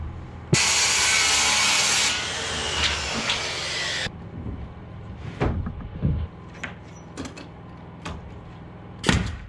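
A power saw cuts a wooden attic joist to length during a DIY SIPs house build, a loud steady high whine for a few seconds that drops off, followed by scattered clunks and knocks of handling the wood.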